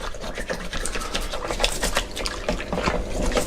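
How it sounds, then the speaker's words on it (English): A toothbrush scrubs a resin miniature in water, giving rapid irregular bristle strokes with wet splashing, close and steady, with no talk over it. "using my toothbrush just to scrub all over each piece of the miniature"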